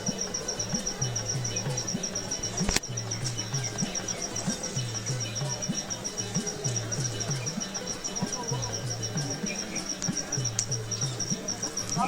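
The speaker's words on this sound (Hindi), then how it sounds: "ये देखें आप टिड्डा" A grasshopper chirps outdoors on a dewy mountain slope in Balochistan, giving a steady, continuous pulsing trill with a thin high whine over it, close and moderately loud, with one brief knock partway through and no speech.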